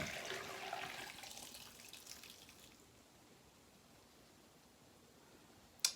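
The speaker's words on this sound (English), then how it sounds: "I'm going to go ahead and just pour that right on in to strain all those berries and of course any of those spices out." Homemade elderberry syrup with spices is poured through a strainer, a soft liquid pour that fades over about three seconds, then near silence and a brief sharp clink at the end.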